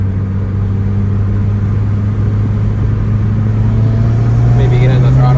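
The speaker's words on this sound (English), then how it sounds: "Maybe get in the throttle a little bit." A 2019 Subaru WRX engine pulls under throttle after a front brake pad change, a loud steady mid-pitched drone that climbs slightly toward the end, heard from inside the car.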